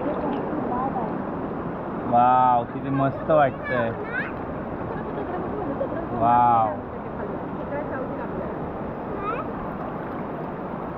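Strong river water rushing continuously down from hills, a steady broadband roar throughout, with excited voices of a family speaking over it in bursts.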